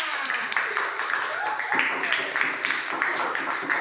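Group applause from students in a classroom, a steady patter of many hands clapping at close range for about four seconds with a slightly uneven rhythm and background chatter mixed in.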